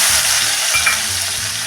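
Curry leaves hit hot oil meant for chivda and burst into a loud, dense, continuous sizzle that crackles up close throughout. Soft music plays beneath it.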